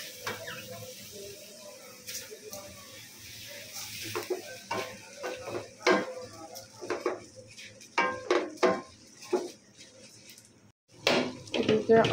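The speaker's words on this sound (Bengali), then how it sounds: "4-5 মিনিট চালটাকে আমি কষিয়ে নেব।" Rice stir-fried over medium heat in a pan makes repeated scraping and clattering spoon strokes with a light sizzle underneath, the strokes growing louder and more frequent later on, while a voice talks at times.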